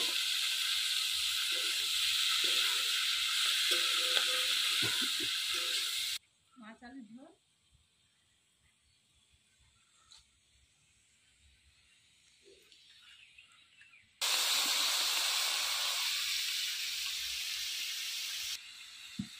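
Onion greens and potato frying with shrimp in a pan, giving a steady loud sizzle for several seconds that cuts out into quieter kitchen sounds with brief talk, then the hissing frying returns.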